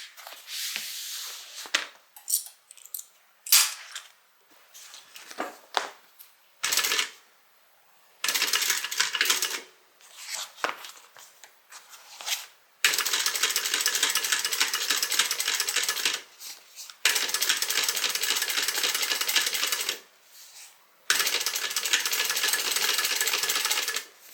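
A sewing machine topstitches the bottom seam of a small canvas tote bag, running in several short, loud bursts of rapid stitching separated by brief pauses, with longer steady runs toward the end.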